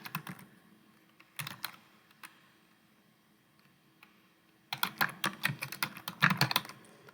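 Typing on a computer keyboard, heard as a short burst of clicks, then sparse isolated taps, then a fast dense run of keystrokes near the end, close and fairly quiet.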